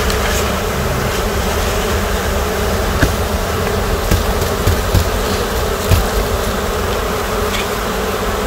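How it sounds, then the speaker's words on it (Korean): A swarm of honeybees clustered on a street tree outside an apartment complex drones in a dense, continuous buzz, loud and close, with a few faint knocks and clicks underneath and no talking. "벌이 붙어져 있으니까 그냥 놔두도록 하고요."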